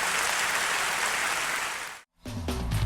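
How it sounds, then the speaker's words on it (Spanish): A church congregation claps for God after a sermon, a dense, sustained round of applause that cuts off abruptly before a different sound begins. "Dale un aplauso a Dios"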